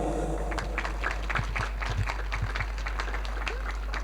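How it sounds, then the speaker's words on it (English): Applause from an audience at a school graduation ceremony, a steady patter of many hands clapping throughout, moderately distant over a strong low hum. "So I'd like to give her a very big round of applause, please."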